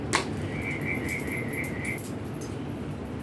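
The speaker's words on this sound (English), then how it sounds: "Yes, little frog in the background." A small frog calls in the background of a quiet indoor setting, a faint, rapid pulsing trill lasting about a second and a half over low room noise.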